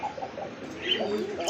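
A male pigeon coos in short, soft repeated phrases at close range, with another bird's faint chirps and a low background hum, recorded among pigeons offered for sale.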